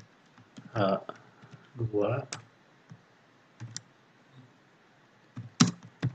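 Keyboard typing heard as scattered soft key clicks, some in quick pairs, between stretches of someone speaking Indonesian close by, quiet and sparse.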